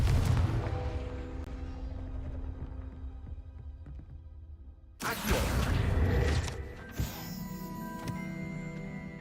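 A Confringo blasting spell in Hogwarts Legacy bursts into a sudden loud explosion after a fading low rumble, followed by crackling debris and a smaller secondary pop.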